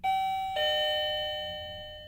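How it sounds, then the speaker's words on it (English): Digoo SB-XYA wireless video doorbell chiming after its button is pressed: a loud electronic two-tone ding-dong, the second tone sustaining and slowly fading, with no talk. "now you have the video doorbell, the guests have arrived"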